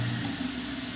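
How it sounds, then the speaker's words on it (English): Water pours and gurgles steadily down a kitchen sink drain right after a new garbage disposal is installed, a continuous close rushing wash with a low hum underneath. "that's the first time this sink's been draining at all"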